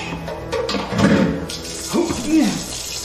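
Water pours into a pot for chicken soup, a continuous running splash with swells in strength, while a voice speaks over it.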